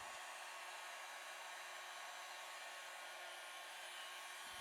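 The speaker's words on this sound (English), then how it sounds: "what I am using here is a heat gun on a low setting" A steady, breathy blowing roar of a heat gun on a low setting, warming a latex balloon, runs evenly throughout, fairly quiet, with no other sounds.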